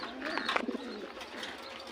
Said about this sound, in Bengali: এটাগুলো হলো রিয়ার কবুতর